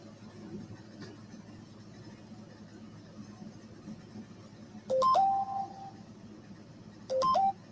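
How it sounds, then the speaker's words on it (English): A mobile phone rings twice in short electronic bursts, separated by a pause, over a low room hum with quiet background sounds. "That was my phone."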